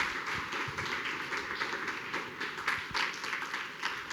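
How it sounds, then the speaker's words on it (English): A crowd of devotees at a Sri Chaitanya Rasotsava festival gathering in Chennai claps for a performance, a moderate, somewhat uneven round of applause over a steady background hum. "So big round of applause for the performance."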